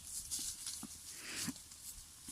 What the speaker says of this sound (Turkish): Koyunlar amcamın elmalarını yiyorlar